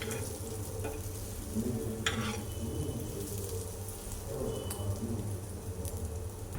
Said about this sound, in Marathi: मिरच्या ह्या आलटून पलटून चांगल्या भाजून घ्यायच्या सर्व बाजूनी